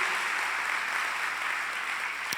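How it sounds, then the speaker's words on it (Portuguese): A church congregation at a morning service applauds steadily and continuously, a dense, even clapping that fills the room from start to finish. "vamos aplaudir ao Senhor por isso"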